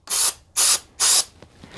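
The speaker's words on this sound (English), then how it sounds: "I'll actually spray the cartridge itself." Three short, sharp hisses of 1-Up card cleaning fluid sprayed from a pump bottle onto an old NES, SNES or Genesis game cartridge, evenly spaced and close up, each burst followed by a brief silence.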